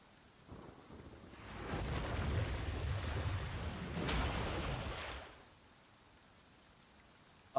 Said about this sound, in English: Just hearing the rain.